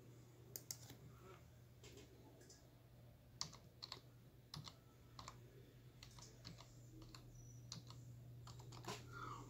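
Password typed on a computer keyboard, a faint, close series of irregular key clicks over a low steady background hum.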